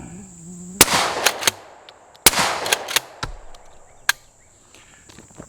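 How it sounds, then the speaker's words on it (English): A suppressed shotgun fires premium 2 3/4 inch high brass 5-shot loads, two sharp, muffled reports a second and a half apart, each followed by quick clattering echoes, with crickets chirping faintly outdoors. "It's a premium 5-shot load, 2 3/4 inch high brass. Going to fire this away, see how it does."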